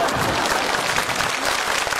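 A theatre audience at a comic sketch show breaks into applause, dense and sustained clapping from many hands filling the room at a steady, fairly loud level with no talking over it.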